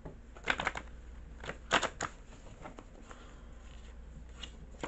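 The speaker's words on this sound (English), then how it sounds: "I'm shuffling these really good because I have these ones stick easily" Quick riffling bursts of playing cards being shuffled close by, a few separate flurries with quiet gaps between.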